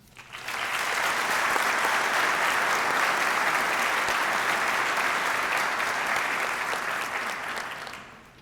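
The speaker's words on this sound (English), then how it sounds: "Let's have a big round of applause for all of the efforts and volunteer time." A large crowd applauds steadily for several seconds at a middle school junior honor society ceremony, the clapping swelling quickly and fading out at the end.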